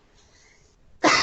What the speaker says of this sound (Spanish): Uy, perdón, medio tos.